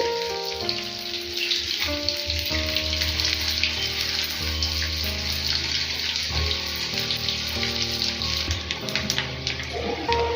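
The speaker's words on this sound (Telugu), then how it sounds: "ఇలా అన్ని వైపులా తిప్పుకుంటూ మంచి కలర్ వచ్చేంత వరకు ఫ్రై చేసుకోవాలి" Leftover roti pieces fry in a pan with a steady oil sizzle and crackle, close and continuous, while faint music plays underneath.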